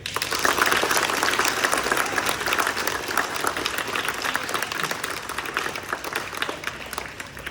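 A crowd applauds a teacher of soldiers at a town gathering, with sustained, dense clapping from many hands that holds steady for the whole stretch, fairly close and loud.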